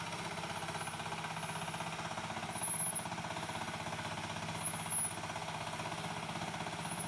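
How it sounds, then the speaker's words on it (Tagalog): Farm machine engine running steadily while preparing a rice field thick with creeping weeds, a continuous close, even mechanical chug with a faint squeak now and then. "okay naman ang hatak ng makina, walang problema, malakas naman."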